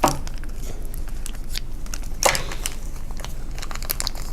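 Toy packaging being opened and cut, close crinkling of plastic and paper with a few sharper snips and crackles scattered over a few seconds, no talking.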